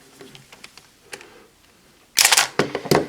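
Kamen Rider Revice Two Sidriver toy transformation belt giving soft plastic clicks, then a burst of louder electronic sound effects in the last second, close and without speech.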